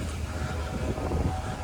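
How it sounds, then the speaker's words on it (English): A train passes nearby as a steady low rumble with wind-like noise for the whole moment, heard outdoors near a chop shop. "You can hear the train going right now."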